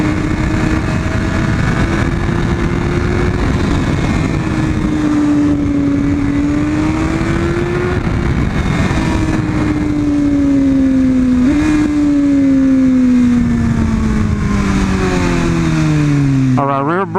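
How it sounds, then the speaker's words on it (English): A Nimbus motorcycle engine drones steadily while riding, its pitch rising and falling through gear changes and speed shifts, loud and close with wind rush underneath, ending in a brief higher whine. "For some reason I feel I can hear the engine a lot clearer now"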